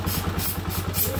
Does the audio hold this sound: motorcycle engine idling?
yes